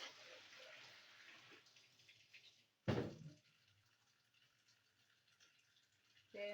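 Water is poured onto a clean sieve cloth while making spicy akamu pap, a steady close splashing rush that stops, followed by a short louder splash and then a quieter trickle.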